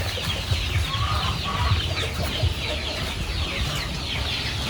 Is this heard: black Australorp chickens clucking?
yes